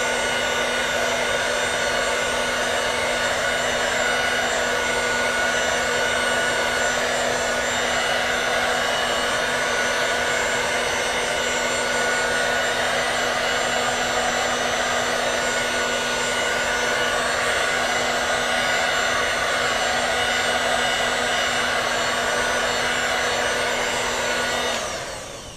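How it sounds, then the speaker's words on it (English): A hair dryer blows steadily at close range for about 25 seconds, warming grip tape for a dirt bike, with a constant whine and a low hum that hold unchanged until it shuts off at the end. "Now you take your mama's blow dryer,"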